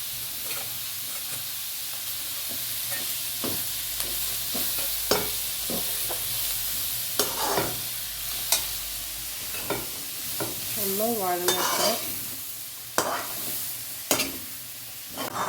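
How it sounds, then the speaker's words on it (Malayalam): Shallots and curry leaves sauté in oil in a pan while a spoon stirs and scrapes, producing a continuous sizzle broken by irregular clatters and scrapes. One brief squeaky tone stands out partway through, and no one speaks. "അങ്ങനെ നമ്മുടെ ഉള്ളിയൊക്കെ വഴന്ന് വരുന്നുണ്ട്"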